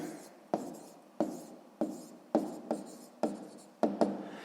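Pen writing numbers on paper while working a sixth-grade math exercise: a run of short scratchy strokes, about eight distinct bursts in steady rhythm, close and quiet, with no talking.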